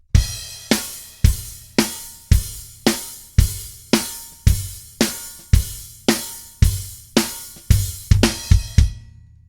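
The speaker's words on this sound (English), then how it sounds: "he opens the hi-hats just a little bit more" A drum groove from a song with a loud, evenly spaced hit on every beat and slightly more open hi-hats washing between them, picking up a quick flurry near the end.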